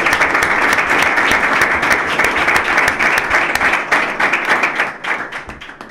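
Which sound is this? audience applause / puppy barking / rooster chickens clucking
audience applause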